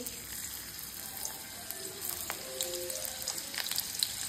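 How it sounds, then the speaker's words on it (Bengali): Chopped onion drops into hot white oil in a wok, giving a soft, fairly faint sizzle with scattered small pops. "তেল দিয়ে দিলাম, সাদা তেল। ওর মধ্যে আমি দিয়ে দেব পেঁয়াজ কুচি"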